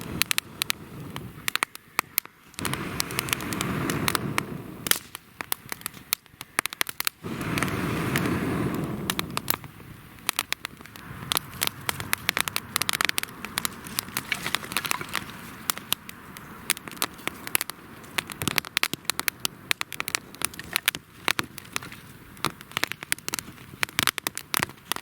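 A teepee-style campfire burns steadily outdoors, with dense irregular crackles and pops from the wood running continuously throughout.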